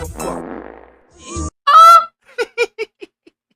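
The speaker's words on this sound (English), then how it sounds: "You had to put the fart sound to it." A fart sound effect is dropped into a rap track: the beat and vocals cut out, then a loud, brassy blat sounds alone, followed by several short, sputtering bursts that trail off.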